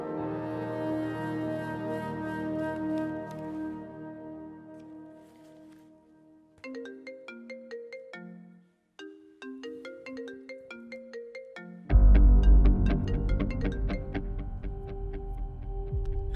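A phone ringtone plays a melodic electronic tune that pauses and restarts, followed by louder, fuller music.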